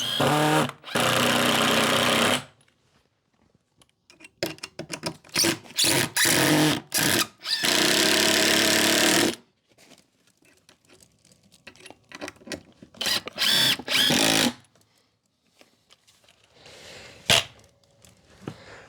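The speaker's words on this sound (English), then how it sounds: "we're gonna secure the 2x4 to the other one using 3-inch construction screws" A power drill drives 3-inch construction screws into a clamped 2x4 during wall framing, with several loud bursts of whirring, the first two long and steady, then shorter stuttering pulses and a few brief later runs.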